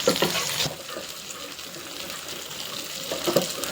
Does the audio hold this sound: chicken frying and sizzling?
yes